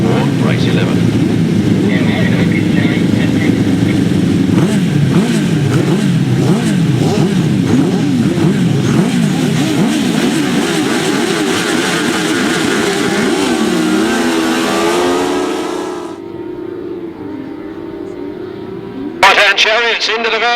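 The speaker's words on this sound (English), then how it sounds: "That's your right-hand sidecars for race 11." Grasstrack racing sidecars at a 600 event sound like loud, overlapping engines revving hard with rising and falling pitch sweeps. Near the end they cut off and there is a brief burst of sound.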